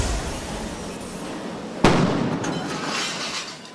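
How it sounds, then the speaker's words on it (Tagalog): A sharp, loud blast cracks out once over a steady roar of crackling flames during a house fire in a dense residential compound, the burning continuing as a broad rushing hiss after the bang. "Dinig ang malakas sa pagsabog habang nagbabaga ang sunog"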